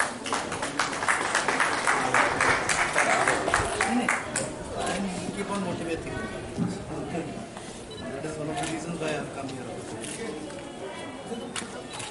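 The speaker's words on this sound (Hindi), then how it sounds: "ताली बजाओ।" Steady crowd applause at a cycle rally flag-off and reception in Lalitpur, with dense clapping strongest early and continuing at a lower level under someone speaking through a loudspeaker.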